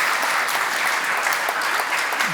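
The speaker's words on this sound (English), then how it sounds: "Big round of applause" Applause from a conference audience after a talk on Lunarpunk, a continuous dense patter of many hands at a steady level throughout.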